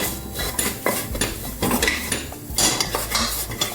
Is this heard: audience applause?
no